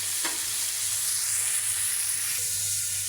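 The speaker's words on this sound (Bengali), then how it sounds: "আমি এখানে 4টা কই মাছ নিয়ে নিলাম। লবণ, হলুদ, মরিচ দিয়ে মেখে এখন ভেজে নিচ্ছি।" Four koi fish, rubbed with salt, turmeric and chili, fry in hot oil with a steady, close, loud sizzle and crackle running throughout, with no talking.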